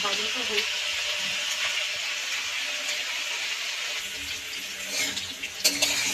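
Potatoes and eggplant fry in oil in a pan while gourd greens and turmeric are added, a steady close sizzle and crackle with a few sharper pops near the end.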